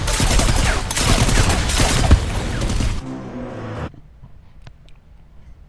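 Dense, loud gunfire from machine gun turrets in the 2014 video game Strider, a continuous rattling barrage for about three seconds that drops to a lower rumble and then fades into quieter scattered noises.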